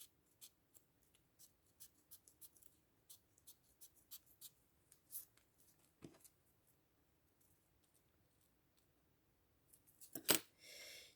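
Scissors snip a scrap of material in a series of quiet, close, irregular cuts, with a louder rustle of handling near the end.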